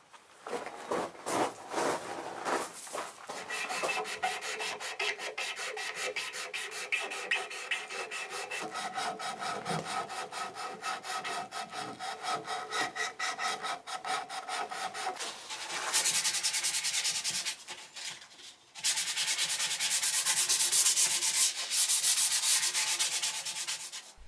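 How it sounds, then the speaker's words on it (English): Hand sanding of a wooden coffee table being restored, using flexible mesh sandpaper: steady, close rasping strokes run continuously, growing louder and brighter in the last third, with no talking. "I'm using the same sanding technique from my last video with some mesh sandpaper that's flexible"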